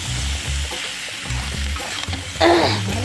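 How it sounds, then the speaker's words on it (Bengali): Egg and eggplant stir-fry with turmeric and salt in a pan, a loud close sizzle with a low rumble underneath and intermittent stirring scrapes, swelling briefly near the end. "ডিম আর বেগুনটা দিয়ে দিলাম তারপরে একটু নেড়ে উঠে আবার কিন্তু হলুদ দিয়ে দিলাম নুন হলে আবার দিয়ে দিলাম ভালো করে নেড়ে ফেড়ে"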